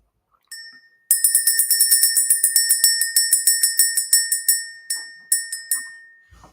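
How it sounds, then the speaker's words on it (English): A small bicycle-style bell rung to clear energy in a spiritual reading session, one single ding followed by a long run of rapid, bright rings, then a few separate rings near the end, loud and close with no talking. "We're going to ring the bell."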